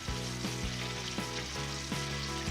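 Chicken drumsticks fry in a pan with a steady, close sizzle, loud and continuous, with a few soft rhythmic bumps under the crackle.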